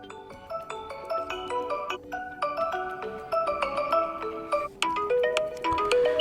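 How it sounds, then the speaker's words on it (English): A pre-installed ringtone on a TCL 306 phone plays a bright, melodic tune of stacked chime-like notes in a steady rhythm, fairly loud and clear with no talking. "I'll just go to select one of the pre-installed ones, for example this one, beautiful ringtone"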